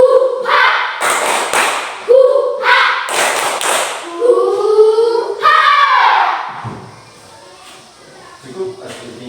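A primary school class in Indonesia performs a rhythmic spirit clap, with sharp bursts of group claps in a patterned beat alternating with loud chanted voices, close and energetic in an indoor classroom.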